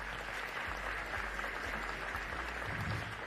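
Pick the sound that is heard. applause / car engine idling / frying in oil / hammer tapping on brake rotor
applause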